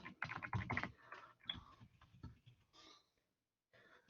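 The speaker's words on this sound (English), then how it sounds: "So I'm just typing in the data" Someone typing data into a computer on a keyboard, a run of quick soft key clicks in bursts with brief pauses, close by and fairly quiet, with no talking.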